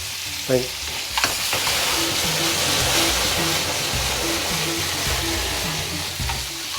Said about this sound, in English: If you want to smoke the vegetables, just give it a little squirt of oil in a hot pan.